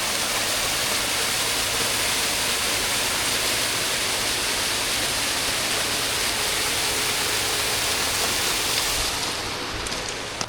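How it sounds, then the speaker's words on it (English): Waterfall in an Alaskan rainforest, its water pouring and slipping under rocks, a steady dense roar that fills the whole scene without a break. "Oh, we got us a beautiful waterfall here."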